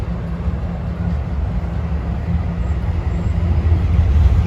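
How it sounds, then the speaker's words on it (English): A train passing on the North Jersey Coast Line at Rahway gives a steady low rumble that builds slightly louder toward the end, with no voices over it. "I think this train is heading down the North Jersey coast."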